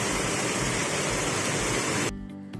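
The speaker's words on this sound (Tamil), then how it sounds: "இந்த இடத்துல வந்து இவ்வளோ அமைதியாக தண்ணி போயிட்டுருக்கு இல்லைங்களா." Water flows calmly through a rural lake channel on a rainy day, a steady broadband rush that cuts abruptly to near quiet after about two seconds.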